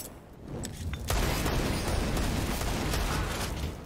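Rapid gunfire and booms from a Counter-Strike match, a steady, dense burst of shots that swells after a quiet start and continues without talk.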